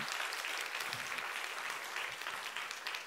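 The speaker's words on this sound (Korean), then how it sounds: "우리 크게 박수 한번 해서 감사를 표현하고 넘어가면 좋겠습니다" A Sunday church congregation breaks into hearty applause to thank its pastors and church school teachers, a thick, even roar of clapping that fills the room without pause.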